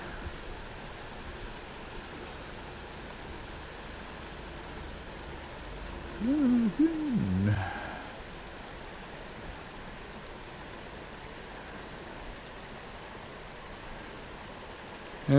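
Creek water flows steadily in a continuous broadband rush, a constant outdoor wash with a brief low voice-like murmur partway through.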